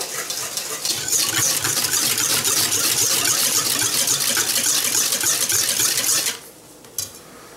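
A whisk or fork beats eggs rapidly in a bowl, a fast continuous clatter that stops abruptly, followed by a single light tap.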